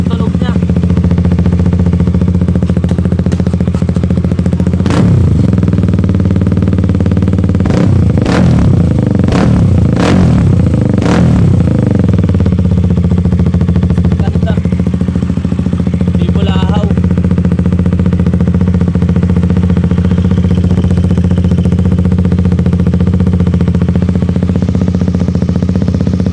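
A KTM motorcycle fitted with a new SC exhaust pipe idles with a deep, steady rumble, broken by a burst of sharp throttle blips in the middle before settling back to idle, with someone talking over it.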